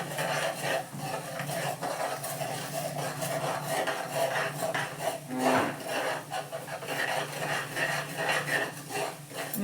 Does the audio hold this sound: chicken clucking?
no